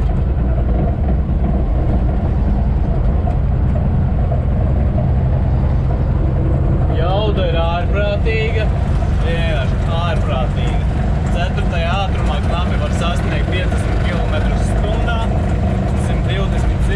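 A fifty-year-old GAZ-66 expedition bus engine drones loud and steady from start to finish, a heavy low rumble filling the cab while people talk over it.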